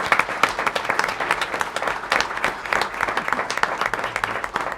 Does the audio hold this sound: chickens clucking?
no